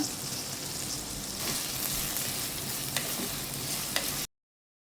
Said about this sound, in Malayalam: ഉള്ളി അരിഞ്ഞ് വെച്ചിരിക്കുന്നതും പച്ചമുളകും കറിവേപ്പില എല്ലാം അങ്ങോട്ട് ഇട്ട് കൊടുക്കാം.